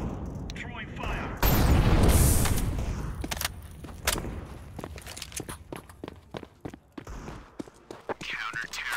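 An incendiary grenade in Counter-Strike 2 bursts into a loud, broad roaring whoosh that swells for about a second before fading. Scattered sharp footsteps and clicks follow at close range.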